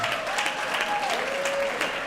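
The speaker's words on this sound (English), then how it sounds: "Let's have a nice hand of applause." A banquet room audience applauds at an awards dinner, steady close clapping from many hands throughout, with a voice speaking over it.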